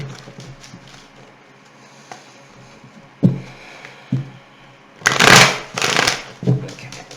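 Tarot cards are shuffled in a few bursts, soft riffles and taps followed by a longer, louder flurry of papery shuffling near the end, close up in a quiet room.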